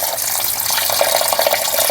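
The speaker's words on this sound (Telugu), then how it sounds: "సాల్ట్ ప్లస్ పసుపు ఈ రెండు వేసి బాగా ఫ్రెండ్స్ బాగా మిక్స్ చేసేసి వాటర్లో తీసుకొని బాగా వాష్ చేసుకోండి" Chicken pieces being washed in water with salt and turmeric, close and loud, with constant splashing and sloshing of water alone, no voices.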